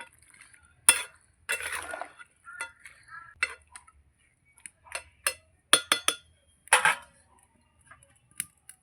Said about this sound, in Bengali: ভালো করে নেড়ে চেড়ে সবজিগুলোকে মিশিয়ে নেব।